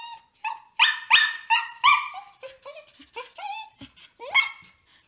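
Scottish terriers bark in excited, uneven bursts at close range, a run of sharp barks and yips mixed with whimpers after finding a wild rabbit under a storage box.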